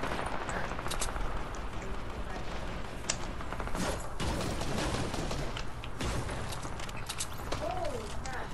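Shotgun fire in the video game Fortnite comes as dense, repeated sharp blasts over a constant busy game backdrop.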